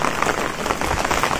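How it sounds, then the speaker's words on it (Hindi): Heavy rain pouring on a rooftop terrace, a loud continuous rushing patter of dense drops close by, with no speech. "बहुत ज्यादा ही तेज बारिश हो रही है"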